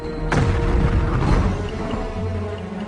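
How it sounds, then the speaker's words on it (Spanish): A sudden deep boom as mines explode under the Kazan citadel, followed by a second rumbling blast and a long, low roar that slowly fades. "3 enormes explosiones sacudieron la ciudadela a la vez."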